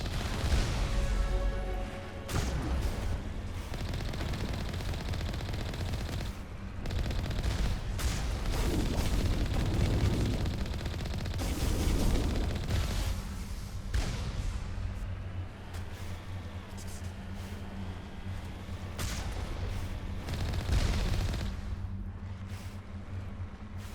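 Vehicle cannons fire in the Mass Effect video game as loud, repeated blasts and bursts over a continuous heavy rumble, running steadily for the whole stretch.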